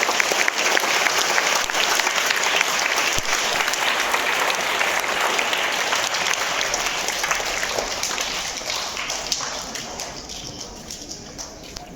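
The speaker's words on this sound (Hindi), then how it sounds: "एक बार जोरदार तालियों से हमारे आदरणीय अंजू सर का स्वागत करें" Audience at a school Deepawali event applauding to welcome a teacher, a loud, dense burst of many hands clapping that carries on steadily before slowly thinning toward the end.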